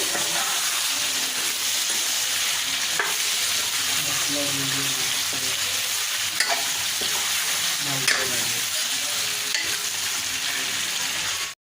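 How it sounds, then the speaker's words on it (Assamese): Boiled chicken meat fries in a pan and is stirred, giving a continuous loud sizzle with scraping spoon strokes and occasional knocks against the metal, close up over nearly twelve seconds before ending abruptly. "ইয়াত আমি বইল কৰি থোৱা মাংসখিনি দি দিছোঁ ভালকৈ এইখিনি অকণমান আমি লৰাই দিম"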